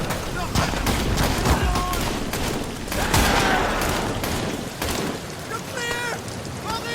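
Rapid gunfire from a firing squad in the WW1 horror game Amnesia: The Bunker crackles as a dense, continuous volley. Heavy rumbling noise sits beneath it.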